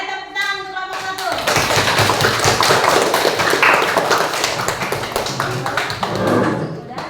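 Classroom applause for a student group, a burst of many hands clapping loudly and densely for several seconds after a teacher's brief speech, fading out as talking resumes.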